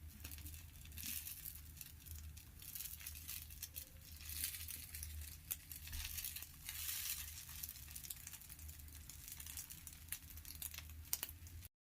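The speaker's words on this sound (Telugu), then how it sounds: "అది ఈ దోశ పైన ఇలా వేసేసి స్పూన్తో నిదానంగా స్ప్రెడ్ చేసుకోవాలి" Beaten egg is spread slowly with a spoon over a dosa frying on a hot pan, giving a steady soft sizzle with light scraping and crinkling, close and alone with no talk.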